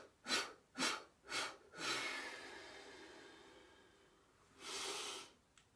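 Three quick, sharp breaths in a chi kung exercise, then a long, soft exhale that fades out, followed by another strong breath; close and quiet, with no talking.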